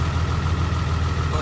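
A Cummins truck with a G56 manual transmission and a Valair twin-disk clutch idles with the clutch pedal pressed in, giving a steady, even low rumble with a faint rattle and no change in rhythm.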